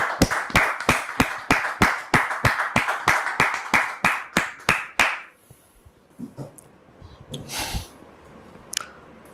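An audience claps in a steady, fast rhythm to welcome a pastor onto a stage. The claps are loud and close for about five seconds, then die away into scattered faint noises.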